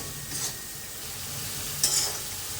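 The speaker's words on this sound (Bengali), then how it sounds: "এবার এটাকে আরেকটু নেড়ে কষিয়ে নিই।" Chicken masala stirred and fried in oil for Hariali chicken, a steady soft sizzle with two brief scraping stirs of the spoon against the pan, close and moderately quiet, no voices.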